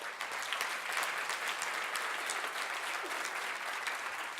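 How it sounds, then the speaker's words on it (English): A lecture audience breaks into steady, sustained applause after a talk on Li-Fraumeni syndrome and elephant p53, a dense wash of many hands clapping at even loudness throughout. "you should be applauding for yourselves"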